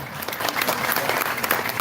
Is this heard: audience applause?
yes